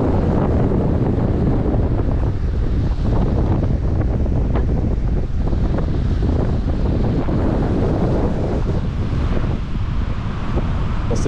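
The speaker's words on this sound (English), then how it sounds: "Massive waves coming back." Massive rough sea waves at Port Edward roar continuously with strong wind buffeting the microphone, a loud, steady wash of surf and gusts with no voices.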